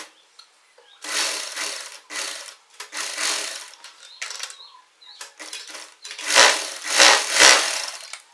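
A sewing machine stitches the neckline of a tulip top design kurti in loud, close bursts of whirring, with short pauses between runs and longer, stronger runs toward the end.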